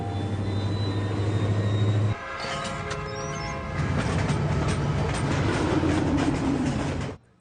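A freight train rumbles along the tracks in a film scene, loud and continuous, with a steady low drone giving way to grinding metallic rolling and clatter before it cuts off abruptly.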